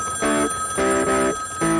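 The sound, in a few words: telephone ringing in a phone booth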